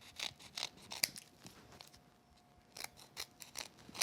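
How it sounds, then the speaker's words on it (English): Small craft scissors snip a few crisp cuts through the protruding edge of a card panel, close up and quiet, with a pause in the middle and a few more snips at the end. "my little scissors will be handy for this. Just get the extra bit that sticks out the edge."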